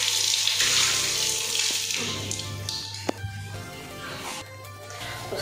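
Tap water runs steadily into a sink while a pot is rinsed before making tea, with clinks and scrapes of the metal vessel and a low hum underneath, all close by.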